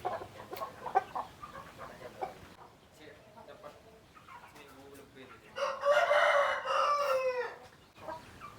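Hens and chicks of a large crossbred chicken stock cluck and cheep in a farmyard, with a loud burst of rooster-like crowing and squawking in the middle, while someone talks over the birds.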